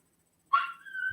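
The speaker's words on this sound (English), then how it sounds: "I'm sorry about the dog." A dog gives a single short, high whine that trails off into a thin sustained whimper, close and fairly clear against silence.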